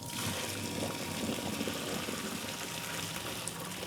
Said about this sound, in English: so the pasta's ready. Just gonna drain it.